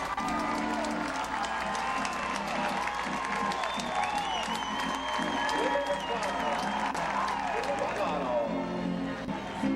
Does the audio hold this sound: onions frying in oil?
no